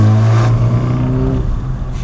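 A BMW's exhaust revs loudly with a rising harmonic drone, holding steady before easing off, all without any talking over it.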